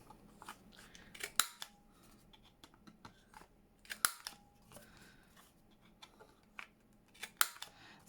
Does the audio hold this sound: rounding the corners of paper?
yes